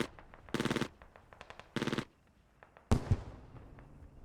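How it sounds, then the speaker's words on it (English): MG3 machine gun fire in a video game battle between Bundeswehr and PLA troops, heard as two sharp rapid bursts followed by a third louder, echoing burst, with faint scattered shots and clatter in between. "Curse of the Commentator gets lit up by an MG3."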